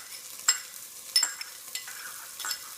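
Garlic, ginger and green chili paste sautéing in a pan, soft sizzling with a few sharp spatters and stirring scrapes at intervals, close and fairly quiet, no talking.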